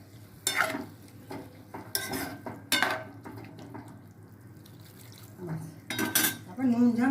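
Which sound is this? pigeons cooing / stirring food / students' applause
stirring food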